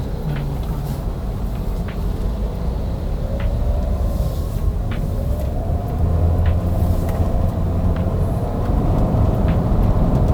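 A Toyota Avanza with a CVT gearbox pulls hard in an acceleration run, its engine drone rising smoothly and growing louder over ten seconds with steady road rumble underneath.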